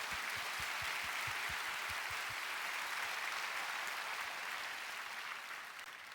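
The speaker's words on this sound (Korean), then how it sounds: "하나님께 영광의 박수를 올려드리도록 하겠습니다" A church congregation at a Korean prayer meeting applauding together, a dense, steady wash of clapping from many hands that holds throughout and eases slightly toward the end.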